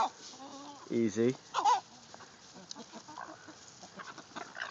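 Chickens cluck and squawk in a farmyard with a young bird dog nearby, a few loud close bursts early on followed by softer scattered clucking, while a person speaks briefly.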